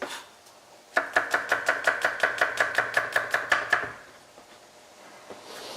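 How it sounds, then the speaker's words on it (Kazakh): A knife chops garlic finely on a board in a cooking lesson, about fifteen quick, evenly spaced strokes that are close and crisp and then stop, with quiet room noise after. "Сарымсағымызды ұсақ етіп тураймыз"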